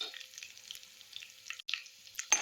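Crushed garlic frying with mustard seeds and curry leaves for an onion thokku gives a soft, steady hiss, fairly quiet, with a few brief crackles and a louder burst at the end.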